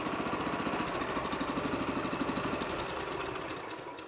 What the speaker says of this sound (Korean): 리콜 스타트를 당기다가 압이 좀 찼다 싶었을 때 당기면 시동이 걸리죠.